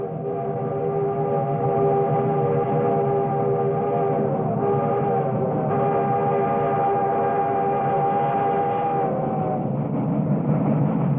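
A loud, sustained steam train whistle blows for about eleven seconds, holding a rich multi-toned chord with slight shifts in pitch.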